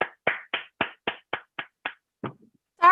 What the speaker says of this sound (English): I'd like to give a resounding applause, Zoom applause, to Juan and Melanie for their incredible presentation